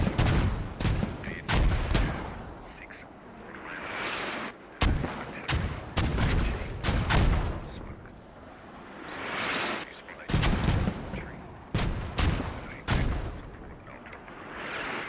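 An artillery barrage strikes in the Squad military shooter, heavy blasts landing one after another at irregular intervals, loud and close with rumbling tails between impacts.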